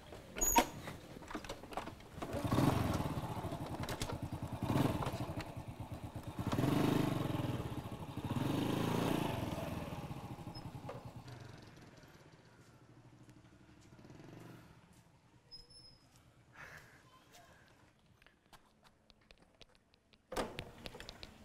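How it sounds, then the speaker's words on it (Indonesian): A motorcycle engine that tends to stall when braking idles and revs in uneven bursts nearby, fading to quieter clatter and knocks before a final sharp sound. "Ini motor. Kalau direm suka berhenti."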